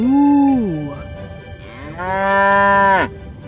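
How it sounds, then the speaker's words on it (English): A cow lets out two loud, close moos: a long lowing call that falls in pitch, a brief pause, then a second, higher, strained moo that cuts off abruptly. "Moo."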